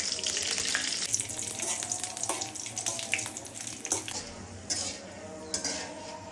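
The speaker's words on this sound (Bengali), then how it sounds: "এখন হচ্ছে এই তেলের ভিতরে কিছুটা শুকনো মরিচ ভেজে নিব।" Dried red chilies sizzle and fry in mustard oil in a wok, a steady close crackling hiss with occasional metallic clinks of a spatula against the pan.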